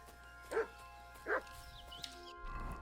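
A dog in Kingdom Come Deliverance II barks twice, well spaced about a second apart, moderately loud over a steady game ambience of low hum and faint background sounds.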